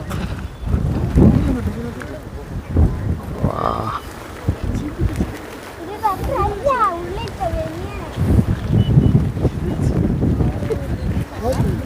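Strong wind roars steadily into the microphone while people talk and shout over the gusts outdoors amid mist near Virajpet.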